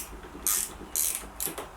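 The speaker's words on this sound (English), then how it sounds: "break these fork clamps free. Not take them all the way out, but break them free" A hand ratchet clicks in three quick bursts while loosening the fork clamp bolts on a Honda CRF110 pit bike, close and crisp, with a faint creak between strokes.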